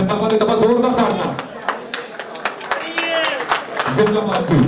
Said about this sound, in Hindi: जी जिंदाबाद की तरफ जोरदार तालियां